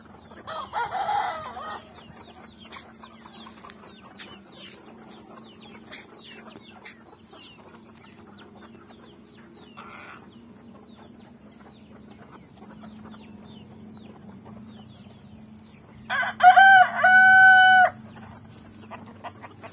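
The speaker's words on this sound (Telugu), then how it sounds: "ఇవి మా 3 కోడి పుంజులు పెద్దయి." Three grown roosters on a home farm, with a burst of loud crowing near the end after quieter clucking and scattered farmyard noises through most of the stretch.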